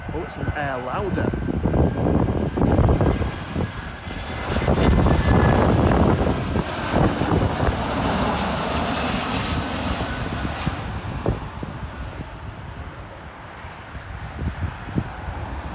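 A low-flying airplane near Manchester Airport roars loudly overhead, building then slowly fading into a distant rumble, with people talking near the start.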